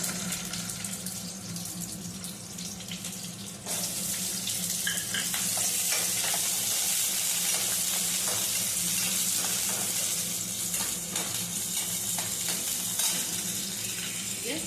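Onion frying in a pan for buttermilk rasam gives a steady, close sizzle that grows louder partway through and carries on evenly, with no one talking.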